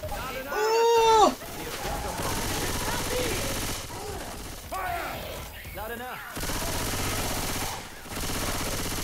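Rapid bursts of gunfire in the Left 4 Dead 2 co-op zombie shooter, crackling in clustered volleys amid mechanical clicks, with excited voices talking and shouting over the shots.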